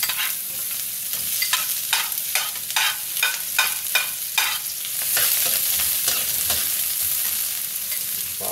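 Onion, garlic and ginger sautéing in hot oil in a kawali, a steady sizzle broken by repeated scraping strokes of a spatula stirring the pan, close and loud, with no voices.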